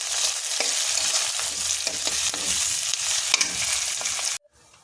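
Chopped onions fry in a pan for a broad-bean stir-fry, a loud continuous sizzle with scattered stirring scrapes, cutting off abruptly into near silence at the end.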